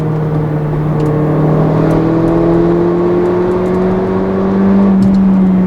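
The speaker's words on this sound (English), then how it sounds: "the pissed off 4-cylinder noise is great" Mercedes-Benz GLA 45 AMG with a 2-liter four-cylinder engine revving hard, a loud close drone whose pitch climbs steadily as it accelerates, with no talking.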